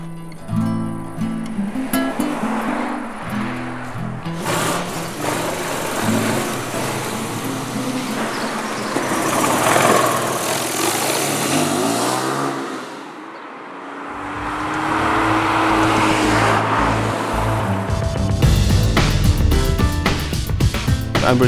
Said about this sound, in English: I try to follow the motorbike